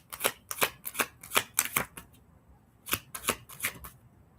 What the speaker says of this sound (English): Oh, the cards are falling on the ground.